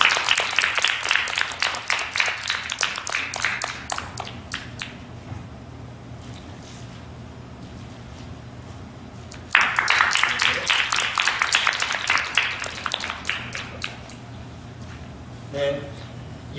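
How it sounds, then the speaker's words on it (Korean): Two bursts of audience clapping at a ceremony: a sustained round that fades out, a quiet gap with a low murmur, then a second lively round that dies away, a brief voice near the end. "큰 박수 부탁드립니다"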